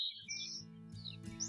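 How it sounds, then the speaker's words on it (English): Bright, high bird chirps and whistled phrases, a few short calls in quick succession over a low steady engine-like hum. "I heard a bird song."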